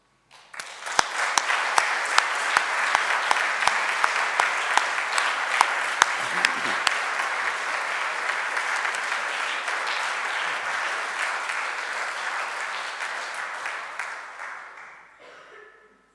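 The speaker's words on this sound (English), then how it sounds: "we should all acknowledge her devotion to wildlife with a large round of applause" A wildlife trust members' day and annual meeting audience gives a long, sustained round of applause, steady and dense with a few sharp nearby claps, fading out after about fifteen seconds.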